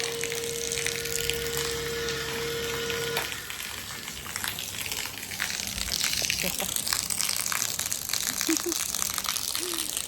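A steady motor pump hum gives way to a sudden rush of water pouring out, splashing continuously and loudly for several seconds.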